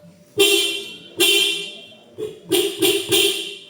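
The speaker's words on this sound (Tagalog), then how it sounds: "Ito lang yung busina, maliit, dalawa." A stock car horn, small and factory-fitted, honks nearby: two longer blasts, then a quick run of four short toots.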